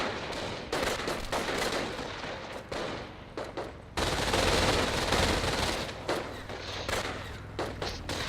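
MG42 machine gun fire in the Company of Heroes real-time strategy game, loud bursts of rapid fire broken by short pauses, mixed with other battlefield gunfire and thumps.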